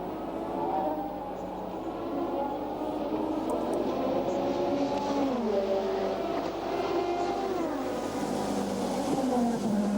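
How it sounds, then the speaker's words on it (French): A Peugeot 908 race car at Silverstone entering the pit lane, its engine note a steady mid-pitched drone that shifts and drops in pitch as it slows, heard continuously at moderate distance amid circuit ambience. "Voici la voiture qui occupe la deuxième position du général, la Peugeot numéro 8 qui rentre au stand"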